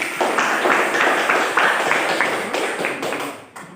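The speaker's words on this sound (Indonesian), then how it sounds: "Oke, berikan aplaus buat dia." A classroom of students applauding a classmate: a dense, steady patter of many hands clapping close by for a few seconds, fading slightly at the end.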